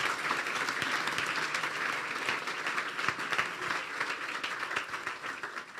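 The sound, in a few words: congregation applauding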